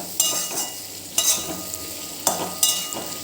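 A capsicum curry is stirred in an open pan, with four distinct scraping strokes of the spoon over a steady close sizzle, spaced roughly a second apart.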